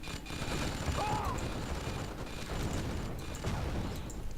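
Sentry gun firing in Command & Conquer: Yuri's Revenge, a continuous rapid rattle of gunfire in a 1vs1 match, steady and moderately loud throughout with faint mechanical clicks.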